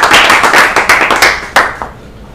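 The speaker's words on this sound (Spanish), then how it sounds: "Muchas gracias y un aplauso para ustedes." An audience claps at a talk on gamefulness and mindful play, a brisk burst of hand claps that thins into a few scattered, separate claps and then fades out.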